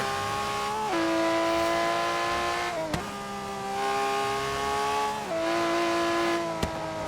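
A Lamborghini Reventón supercar accelerates hard in fourth gear, its engine note climbing steadily and dropping briefly at each gear change, loud and close throughout with no talking.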